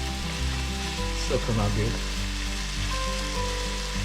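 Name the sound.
ketchup fried rice frying and simmering in a pan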